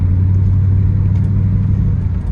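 Steady, loud low rumble of a 1970 Oldsmobile 442 Y74 Pace Car V8 engine under load, a continuous drone with a strong low hum and no voices.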